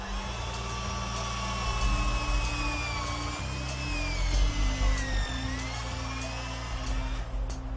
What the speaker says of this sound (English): 20 feet up to where he'll drill in an anchor.